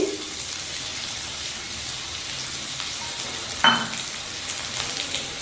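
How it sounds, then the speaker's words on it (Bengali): Raw mango pieces fry in a spice tempering over a low flame, giving a steady soft sizzle with one brief clatter or stir partway through. "ফ্লেম লোতে রেখেই আমগুলো একটু ভালো করে ভেজে নেব"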